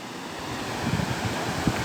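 The Sherpe-Napne waterfall near Vaibhavwadi, Sindhudurg, heard from above as a soft, steady rushing wash of water that stays even and distant without speech.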